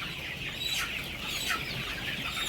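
Colour broiler chickens clucking steadily in a noisy farm coop, a constant busy chatter of many birds close by with no voices.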